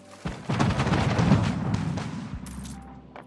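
Naval gunfire rumbles during a ship attack in the strategy game Anno 1800: a dense, booming volley of shots and low blasts lasts about two seconds and then fades into a quieter tail, with no talk.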